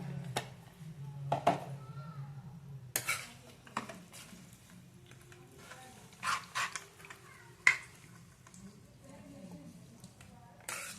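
A spoon stirs and scrapes chili powder into tomato chutney in a metal pan, with scattered clinks and knocks at irregular intervals, fairly quiet, with some faint talk underneath.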